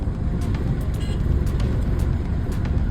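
A vehicle on an Indian road drives off, a steady broadband engine and road rumble holding at constant loudness, with a few faint higher clanks over the roar.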